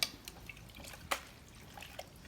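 Wild mushrooms being rinsed in basins of wash water, giving a few faint, sparse drips and small splashes with quiet gaps between them.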